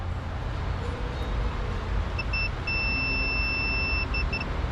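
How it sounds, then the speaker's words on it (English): Multimeter on continuity check sounds a thin, high electronic beep, a few short chirps and then a sustained tone with brief gaps, over steady engine-bay background noise while a wire to a Ford PCM is tested. "meter set up and it's on continuity check"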